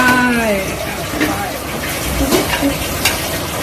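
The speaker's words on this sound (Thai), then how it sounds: "พริกแกงพริกแกงใส่เข้าไป ใส่เข้าไป ใส่หอมแดงเข้าไป" Red curry paste and shallots fry in a pot with a steady close sizzle and stirring scrapes while a person talks over the cooking.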